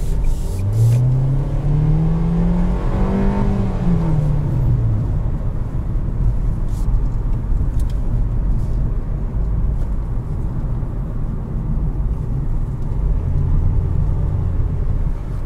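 A 2020 Nissan Kicks SR heard from inside the cabin while driving through corners, its engine rising in pitch then easing off early on, followed by a steady loud road and tyre roar.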